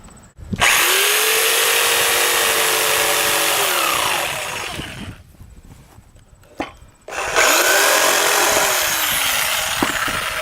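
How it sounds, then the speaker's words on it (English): Wood being cut for a staircase, first with a circular saw whining loudly for several seconds, then a short pause and clunks, then a jigsaw taking over with a rough buzzing cut, close and loud. "I use my circular saw, stop at the exact point I need to, then I take my jigsaw and finish up the cut."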